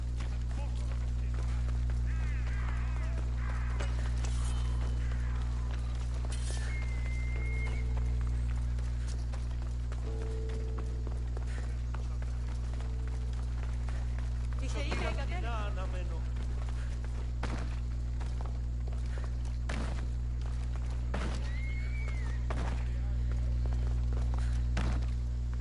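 Horse hooves clip-clopping in a video game, steady trotting steps under a constant droning background, with brief game sounds and a person talking over it.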